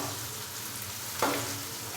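Onions fry in a pan toward golden brown for an aloo chana pulao, giving a steady close sizzle with a brief stirring scrape partway through.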